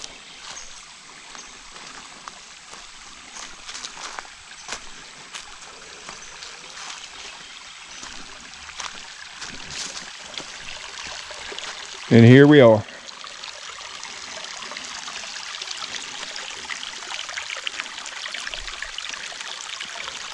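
Water from a woodland stream running off solid granite, a steady soft rush and trickle heard throughout, with a brief spoken remark partway through.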